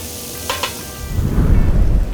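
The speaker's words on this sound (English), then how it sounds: "Add in our onions. We'll go ahead and sweat this down for about 3 to 5 minutes so those onions are translucent." Onions dropped into a hot cast iron pan for a smoked green bean casserole burst into a loud, steady sizzle after a couple of faint clinks.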